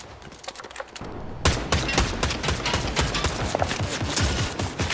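Video game gunfire in a shooter, with rapid bursts of shots that start abruptly and continue densely and loudly, mixed with clicky clatter and no speech.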